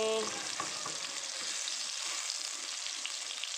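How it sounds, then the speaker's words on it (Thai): Garlic frying in a pan for a mixed vegetable and shrimp stir-fry, a dense, even hiss of hot oil sizzling steadily, close and continuous with no voices. "เริ่มได้ยินเสียงละคน เคี่ยวพอให้กระเทียมหอมๆเล็กน้อย"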